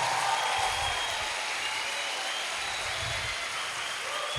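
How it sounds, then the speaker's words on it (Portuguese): Applause from a church congregation at a family conference, a steady broad patter of clapping that continues evenly with no speech over it. "Dê para Jesus mais uma forte salva de palmas."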